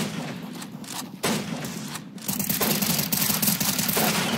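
Rapid bursts of gunfire from a first-person shooter game, dense and continuous, with several overlapping volleys growing louder toward the end, heard without talk.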